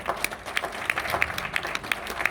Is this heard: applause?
yes